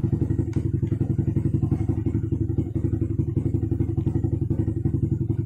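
A motorcycle engine idles steadily during a battery charging test on a bike with modified electrics, a close, even low throb with a fast regular pulse and some light clatter throughout.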